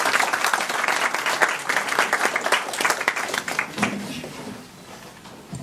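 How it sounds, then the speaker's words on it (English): Applause from an audience after a speech at a formal address, dense clapping that fills the room and then thins and fades toward the end. "deserves a much louder round of applause"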